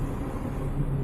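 Road traffic rumbles through a tunnel in Saudi Arabia, a low, continuous engine roar and tyre drone filling the space for a short moment.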